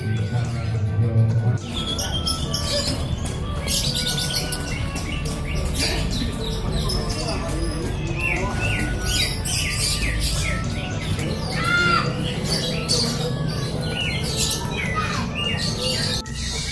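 At a songbird contest in Depok, a green leafbird sings among many birds in a dense chorus of sharp squawks, chirps and rapid calls. Voices talk faintly underneath.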